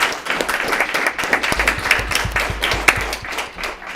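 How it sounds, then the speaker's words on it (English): An audience at a Peoria board of education meeting claps in a short burst of applause, a dense patter of hands heard from the room at moderate volume. "So if we want to give her a round of applause."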